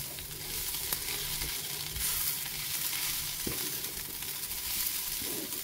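Spices roast lightly in a pan for a curry, giving a steady soft sizzle with occasional stirring scrapes and clicks, close and without talk.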